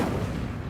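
An Incendio fire spell is cast in Hogwarts Legacy, a short, loud, low roaring burst like a whoosh of flame, heard alone.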